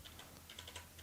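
Keys clatter in quick, irregular taps on a computer keyboard as text is typed in video editing software, close and fairly quiet with no talk.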